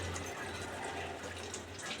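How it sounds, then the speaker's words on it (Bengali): Hot water is poured into a pan of braised soybean and potato curry, giving a short, soft, steady splash and gurgle of liquid heard alone. "সেই গরম জল ঢেলে দেব।"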